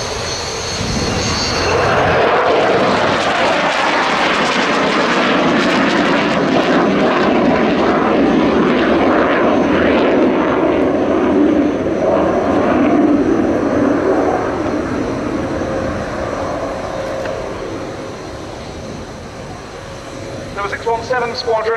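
An RAF F-35B Lightning jet flies at the Royal International Air Tattoo 2019 air show, with a loud, sustained roar that swells and then slowly fades as it passes.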